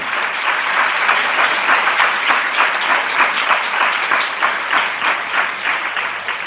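Loud, sustained applause from a congregation giving thanks to God at a Christian gathering, dense steady clapping filling the whole stretch without any talk over it.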